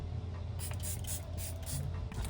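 Makeup setting spray from a pump bottle, several quick hissing mists in a row, close and fairly crisp over a steady low hum.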